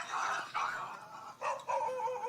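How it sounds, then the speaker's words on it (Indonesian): Dogs fighting in a yard, barking and snarling loudly in two harsh bursts separated by a brief lull, close and agitated, with no voices. "setiap hari pasti terdengar gonggongan keras, suara benda pecah, dan teriakan tuan rumah yang putus asa"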